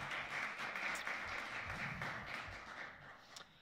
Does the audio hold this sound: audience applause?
yes